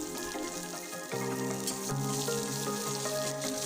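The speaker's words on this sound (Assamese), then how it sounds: "পিঁয়াজখিনি ভালদৰে ভাজি লম" Chopped onions, with dried red chilli and a bay leaf, frying in mustard oil in a pan, a continuous close sizzle that grows slightly louder after the first second, with sustained musical tones behind it.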